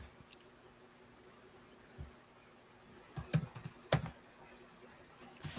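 Computer keyboard keys clack in quick irregular bursts, faint at first and then louder, with scattered sharp taps in an otherwise quiet room.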